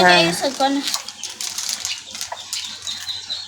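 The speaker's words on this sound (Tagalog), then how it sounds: "Ito na po yung tubig." Water is poured from a watering gun at a home breakfast with children, splashing and trickling in uneven bursts after a short burst of voices at the start, with light clatter throughout.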